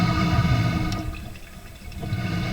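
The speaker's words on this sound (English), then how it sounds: "Running a little water down the line" Water runs down a sewer drain line in a crawl space, through old gray PVC pipe being replaced with ABS. The rush is steady and hollow, with no talking.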